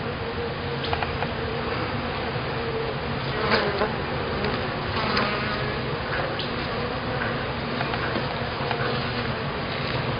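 Honey bees swarm and drone over an open hive during an inspection of brood frames, a dense, continuous buzz filling the whole stretch, with no talk.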